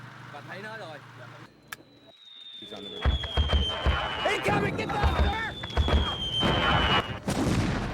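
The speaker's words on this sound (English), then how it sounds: "Mortars rained down on the outpost." Mortar shells explode around an outpost in a dramatized war scene, with repeated low thuds and bursts arriving in volleys under a high whistling tone and overlapping shouted voices.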